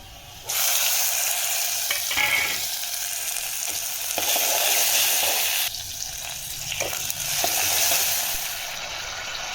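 Potatoes and minced meat fry in a pan with a steady, close sizzle, broken by brief stirring scrapes and a short burst of running water.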